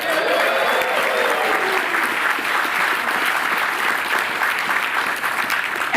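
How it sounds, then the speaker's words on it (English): A crowd at an outdoor groundbreaking ceremony for a museum's 150th anniversary claps and cheers loudly and continuously, a dense, unbroken roar of applause. "could we have a full-throated cheer for the museum's 150th anniversary?"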